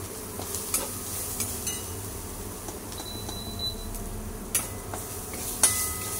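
Masala for samosa filling is stirred in a pan, with a soft sizzle under scattered scrapes and clinks of the spoon against the pan at irregular intervals; no voices.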